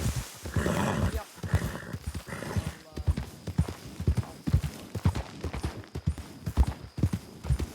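Hooves of a saddled horse clip-clop steadily in a video game, a loud, close, irregular patter of footfalls with a brief snort or whinny near the start and no talk over it.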